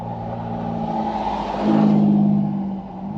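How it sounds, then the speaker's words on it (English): A 4x4 on fat tires driving a dirt mining road in British Columbia, its engine droning steadily, then swelling louder and closer as it revs or passes before easing off. "These 4x4s, these fat tires just flying on these roads."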